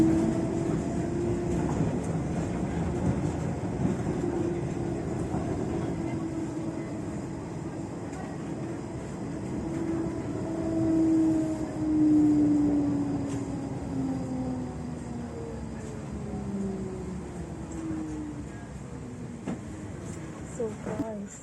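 Steady rumble and hum from inside a moving passenger train, with a low droning tone that rises and falls slightly and no break throughout.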